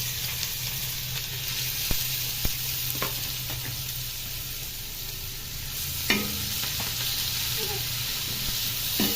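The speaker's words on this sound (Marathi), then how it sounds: "कांदा टाकून घेऊया।" Onion sizzles steadily in hot oil in a pan while making dried bombil chutney, a continuous bright hiss with occasional clicks and stirring scrapes, close up and fairly even in level.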